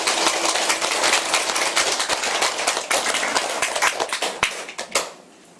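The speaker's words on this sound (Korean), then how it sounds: "박수 한번 칩시다." An audience at a temple opening ceremony applauds with dense, continuous clapping that holds steady, then thins into a few scattered claps before stopping.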